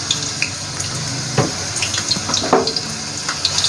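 Ginger and garlic sauté in a hot pan with a steady, fairly loud sizzle, broken by a few sharper crackles and clicks from stirring, with no voices.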